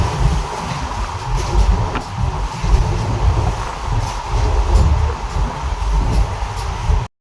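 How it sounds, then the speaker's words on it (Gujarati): A moving train on a journey toward Dwarka, Gujarat, gives a steady low rumble with rattling, continuous and fairly loud throughout, and no voices over it. "આપણે ટ્રેન ચાલુ છે"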